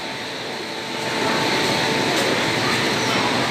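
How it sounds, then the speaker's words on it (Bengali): A special train bound for Ayodhya rumbles at Prayagraj Sangam station, a steady broadband rail roar that swells and holds loud after the first second, with no voices over it. "এটা হচ্ছে অযোধ্যা যাওয়ার স্পেশাল ট্রেন"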